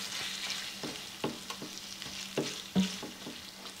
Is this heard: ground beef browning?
yes